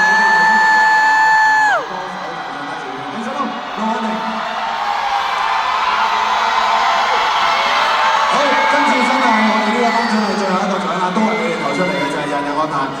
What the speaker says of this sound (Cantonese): 掌聲鼓勵晒。